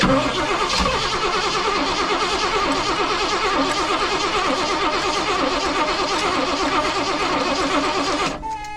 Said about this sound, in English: let's go ahead and bust it off again, see if it'll start